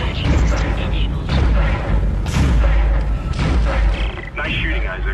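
Automated ship turret fire in Dead Space, loud repeated booming blasts and thuds rolling continuously, with a voice speaking over the barrage.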